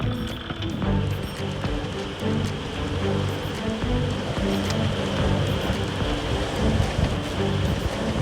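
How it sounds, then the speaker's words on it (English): Steady, dense rainfall hisses continuously during a squall on a sailboat crossing the Atlantic, with wind and rushing water beneath it; no voices, just an unbroken wash of sound. "This time the rain is heavy"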